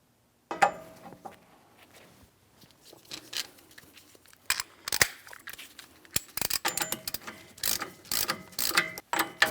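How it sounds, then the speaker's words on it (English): A hand ratchet tightens the hub nut on a Ford Edge front steering knuckle, giving repeated quick clicking runs in uneven bursts after a brief silent start, close and crisp. "At that point, we'll continue on with a hand tool."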